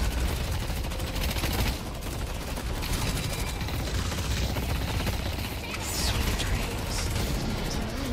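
Continuous, loud gunfire fills a base assault in the video game Deadlock, with overlapping shots and impacts forming an unbroken, chaotic wall of combat noise.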